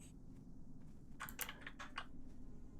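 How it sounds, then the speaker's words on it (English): Rapid keyboard clatter from a gamer's computer keyboard used for movement keys during a World of Warcraft raid, a burst of loud clicks near the middle over a steady low background hum. "That's my keyboard being loud."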